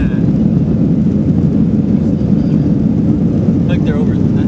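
A jet aircraft taking off during Monterey Car Week, a loud, steady broadband roar filling the whole stretch with no break, nearby voices talking over it.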